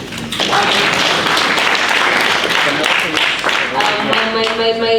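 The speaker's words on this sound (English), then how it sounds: "Let's give them a round of applause." Audience applause at a security summit ideathon, loud continuous clapping with crowd noise and some voices, easing toward the end as a voice or tone comes in.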